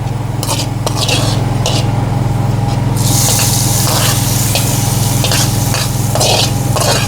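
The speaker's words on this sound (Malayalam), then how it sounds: "അപ്പോൾ ഉള്ളിയൊക്കെ മൂത്ത് വന്നു അപ്പോൾ നമുക്ക് അതിലേക്കൊന്ന് ഒഴിച്ചു കൊടുത്താലോ" Liquid poured onto browned onions in a hot pan, a steady loud sizzle that swells into a bright rushing hiss as the liquid hits, continuous and close.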